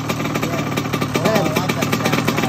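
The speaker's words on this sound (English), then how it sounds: "Fully cold start." A 1991 Kawasaki KX80 two-stroke dirt bike engine running just after a fully cold start, a loud, close, rattly buzzing idle with slight rises in revs throughout.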